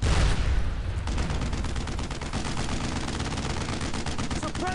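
Sustained suppressing fire in Brothers in Arms, a World War II shooter: dense, rapid automatic bursts run steadily throughout, loud and close, with no talk over them.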